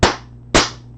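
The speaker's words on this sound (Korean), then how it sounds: "그냥 박수로 치는 게 낫잖아요" Two sharp, loud hand claps about half a second apart, each ringing briefly before fading, close and alone.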